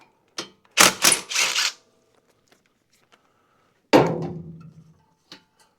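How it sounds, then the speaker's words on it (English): Two bolts being loosened and removed with a 10 mm socket on an Exmark Vantage S mower: a quick burst of sharp metallic ratcheting clicks, a pause, then a second short clattering burst, close and fairly loud, with no talk. "Just going to take a 10 millimeter socket and remove the 2 bolts."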